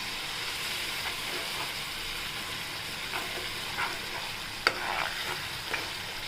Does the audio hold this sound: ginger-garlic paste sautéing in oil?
yes